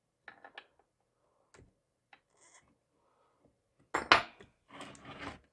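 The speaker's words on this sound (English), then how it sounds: "I'm thinking we can pry this piece out" Parts being pried apart on a 50cc race chainsaw build: scattered faint clicks and small mechanical taps, then a louder burst of scraping and clattering metal near the end, close by with no talk.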